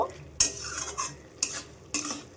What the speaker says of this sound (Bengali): গ্যাসের ফ্লেমটা অনেকটা বাড়িয়ে দিয়েছি এইভাবে নাড়াচাড়া দিয়ে ফুটতে থাকবে কিছুক্ষণ ধরে